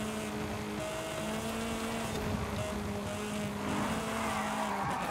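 Volkswagen Golf racing engine in Forza Horizon 5, a steady loud drone with sustained revving tones shifting pitch through gear changes, continuous for the whole stretch with no talk over it.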